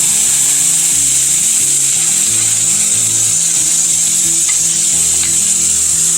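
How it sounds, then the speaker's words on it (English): Marinade poured into a hot skillet beside a resting New York strip steak hisses loudly and steadily from up close, a dense continuous sizzle over a low rumbling hum, with no voices. "Now while our steak rests, I'm going to add the marinade"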